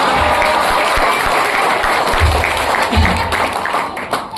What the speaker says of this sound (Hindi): आपने जो मेरे सम्मान में घनघोर तालियां बजाई हैं